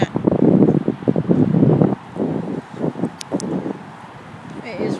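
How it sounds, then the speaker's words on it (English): Strong wind buffets the microphone outdoors on a dark residential street during a power outage. A heavy, loud rumble fills the first two seconds, then it eases into lighter, uneven gusts as someone talks. "It is really windy out here."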